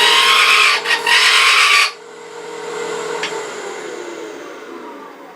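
A small wooden plug spinning on a wood lathe: loud, rough cutting noise for about two seconds, then a quieter steady motor whirr with faint scraping.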